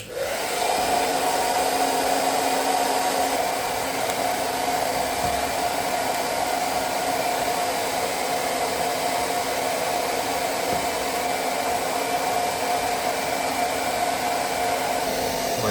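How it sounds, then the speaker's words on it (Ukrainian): A hair dryer powered by an Aferiy P-210 2400W charging station blows continuously at steady volume, a loud unbroken whirring hum from start to finish. "Додамо сюди ще фен"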